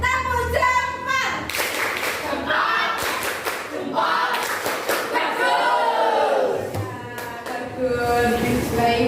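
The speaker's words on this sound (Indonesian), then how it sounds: "untuk semangat pagi hari ini kita tepuk jempol" A middle-school class performing the tepuk jempol thumb-clap routine, several sharp rhythmic group claps interleaved with children chanting and a teacher's voice leading them.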